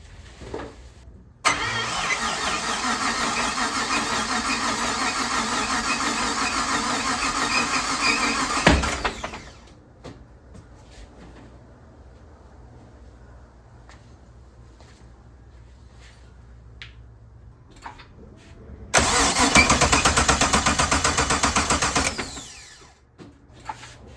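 A Porsche 911 with a swapped LS engine, freshly fitted with a new battery, is cranked in two long loud whirring bursts of the starter with a quiet pause between, without catching.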